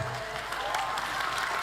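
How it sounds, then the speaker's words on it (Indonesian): An audience claps steadily at a public discussion event on humanity and city civilisation, a soft, even wash of applause heard from a distance. "Kita kasih tepuk tangan."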